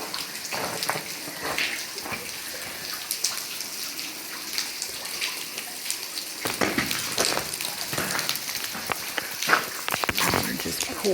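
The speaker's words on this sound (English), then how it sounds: "Drip, drip, drip everywhere." Water drips and pours inside a large cave passage in West Tennessee, a patter of scattered drips and a steady wash of running water with footsteps on wet ground, close and fairly loud throughout.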